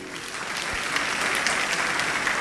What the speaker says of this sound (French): Encore vos applaudissements, s'il vous plaît.